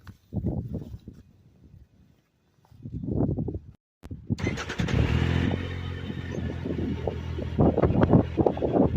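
A Triumph Trophy SE three-cylinder motorcycle engine cranks and fires up, then settles into a steady rumbling idle with revving swells, heard close amid some wind noise.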